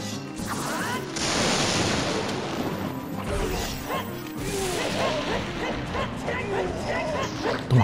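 Dog yelps, barks and whimpers from a Zelda Ocarina of Time randomizer game, several sharp cries over game crashes and effects, with someone speaking Spanish throughout.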